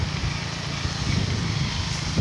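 A BSF motorcycle at a border security camp putters by nearby, its low engine throb steady and moderately loud for a couple of seconds, with no talking.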